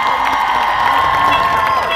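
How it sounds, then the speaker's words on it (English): A protest crowd in Manchester cheers and applauds the speakers, with loud sustained voices, whoops and children's shouts over scattered clapping, dense and continuous. "Can we give all of the speakers a big round of applause"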